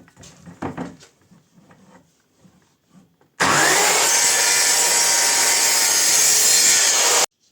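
A Metabo KS 55 FS circular saw makes an angled cut through wood, a loud sustained whine that starts abruptly and runs for several seconds after a few quieter handling knocks.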